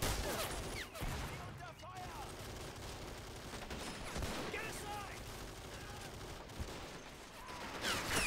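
A .30 cal machine gun firing in the strategy game Men of War: Assault Squad, faint continuous volleys under steady commentary speech, mixed with other distant gunfire throughout.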